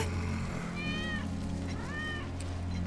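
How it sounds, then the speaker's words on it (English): A cat meows twice in Final Fantasy 7 Remake, the cries clear and drawn out, over a steady low hum and background game noise. "That's Wedge's cat."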